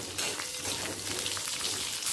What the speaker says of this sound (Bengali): এরপর দিয়ে দেব পটলটা হালকা করে ভেজে নেব।